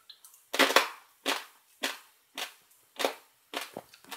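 Dry uncooked pasta crunches in a chewing mouth in a series of sharp, close, crackling bites with short pauses between them, heard alone without talk.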